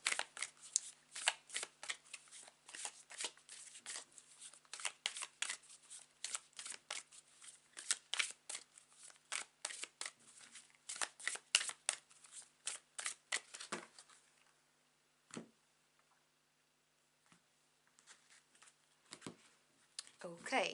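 An oracle deck is shuffled for a tarot reading, giving quick rapid riffles of cards up close for about fourteen seconds, then a few scattered soft card taps in a quiet room.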